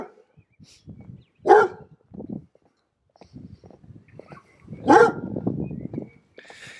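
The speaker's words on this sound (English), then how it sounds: "Another dog that wants to kill me." A dog barks twice, a few seconds apart, each bark sharp and fairly close. Softer scuffling and low rumbling noises fill the gaps between.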